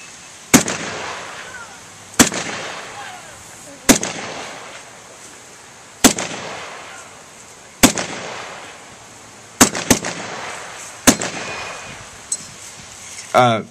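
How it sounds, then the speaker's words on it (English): Series of sharp M1 Garand rifle shots, about eight spaced a second or two apart, each ringing briefly, with a faint metallic ping of the en bloc clip ejecting near the end; outdoor range, no speech. "how you heard that end block pop out. That was a great signal for the Germans and especially the Japanese that they knew that the M1 was empty"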